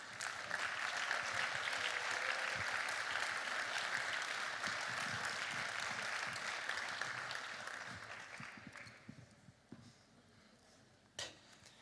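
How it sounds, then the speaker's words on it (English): A large audience at an award ceremony applauds in a sustained, dense wave of clapping that gradually tapers off into scattered claps and a few knocks. "Can you please put a really big round of applause?"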